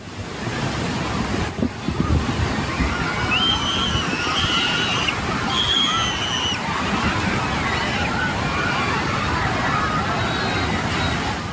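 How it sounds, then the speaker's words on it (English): Powerful waves crash onto Durban North Beach in South Africa and flood the shoreline, a loud, continuous roar of surf with wind buffeting the microphone and faint distant voices. "Powerful waves are crashing into Durban North Beach in South Africa, flooding the shoreline"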